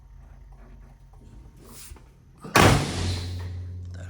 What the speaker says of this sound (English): That hood shut, this door shut.